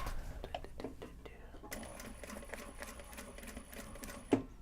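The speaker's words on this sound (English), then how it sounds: "we're gonna sew it first so it's done" A sewing machine stitching upcycled Japanese obi and kimono fabric, its quiet, steady rapid whirring running for a few seconds after some soft clicks and handling taps, ending with a sharper knock; faint overall.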